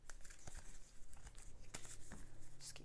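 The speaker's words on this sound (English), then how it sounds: "Just keep shuffling until I hear that ding" Tarot cards shuffled by hand, with close, quiet crinkly riffles and soft taps in an irregular rhythm, and no talking.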